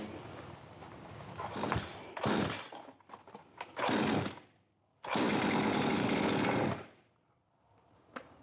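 Giantz 92cc chainsaw engine being pull-started: rough rasping cord pulls and sputters, then two loud bursts of engine running, each lasting one to two seconds before cutting out, close by with no talk.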